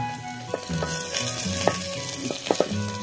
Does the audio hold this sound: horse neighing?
no